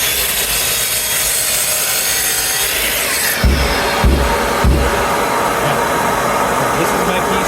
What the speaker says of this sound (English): So we all know how to use the miter saw by now.